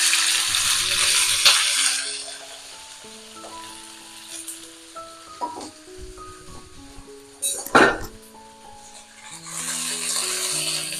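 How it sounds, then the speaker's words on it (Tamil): Okra (vendakkai) is tipped into hot oil in a kadai and sizzles steadily, with a brief clink of utensils midway and music playing underneath. "இந்த வெண்டைக்காயை அதில் சேர்த்துருவோம்."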